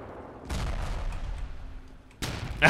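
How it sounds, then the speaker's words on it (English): A shrapnel grenade blows up in the video game Ravenfield, a loud close blast that rumbles on and fades, then another sharp burst near the end, with no talk. "It's a shrapnel grenade."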